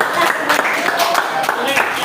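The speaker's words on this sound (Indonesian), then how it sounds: "Tepuk tangan dulu buat Salwa." Students in a seventh-grade classroom clap together, a short burst of fairly loud, uneven group clapping with a voice speaking over part of it.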